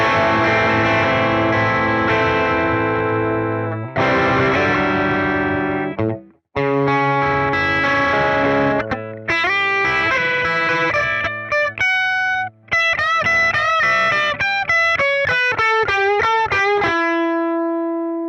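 A distorted electric guitar through a Quad Cortex amp simulator plays sustained chords and then a quick run of single notes, with a thick, processed amp tone and no voices.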